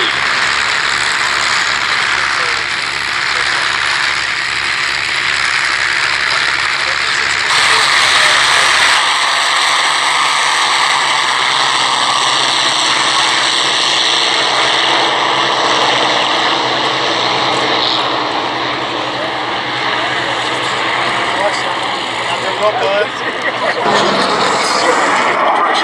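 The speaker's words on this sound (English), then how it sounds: "Off the hard runway, Boeing B17 Flying Fortress Sally B." A Boeing B-17 Flying Fortress, Sally B, runs its piston engines on the hard runway at a Duxford air show, a loud steady droning roar with a commentator talking over it throughout.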